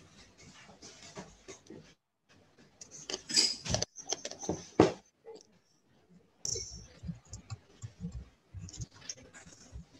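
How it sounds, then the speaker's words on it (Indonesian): A spoon scrapes and clicks against a container while baking soda is spooned into a balloon for a school science project, with irregular close clatters, a brief louder rattle and quiet pauses. "isi balonnya dengan soda kue."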